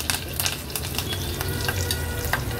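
Asafoetida and curry leaves sizzling in hot oil for a homemade Agri Koli style vegetable thali, a close, steady crackling fry with scattered sharp pops and faint stirring, no voices.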